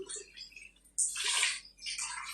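Water pours in a steady splashing stream into a cooking pot for about a second, stops briefly, then pours again, close by with no talking.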